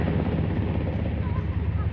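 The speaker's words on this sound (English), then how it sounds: "That's a helicopter there." A helicopter flies near a campsite in Arizona during a thunderstorm with a lightning-sparked fire, its steady, loud rotor drone continuous throughout with a voice speaking over it.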